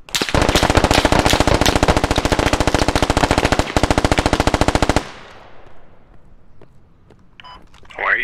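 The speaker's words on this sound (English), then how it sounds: "Why are you shooting at our building?" Automatic rifle fire in the military shooter Squad rattles in a loud, rapid, steady stream for about five seconds with one brief break, then stops, leaving quiet ambience and a short voice.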